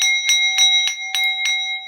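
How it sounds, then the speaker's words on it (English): A hand bell rings in six evenly spaced strokes over two seconds, each bright metallic strike sustaining a steady ringing tone, close and clear with no voices. "be ringing unmuted in a cacophony of sound, ringing in the resurrection"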